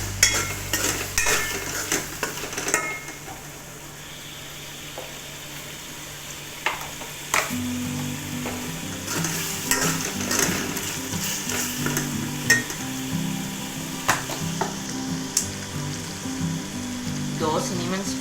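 Cumin seeds sizzle in hot oil for chicken yakhni pulao, a steady close frying hiss broken by occasional spoon clinks and stirring scrapes, with no talking.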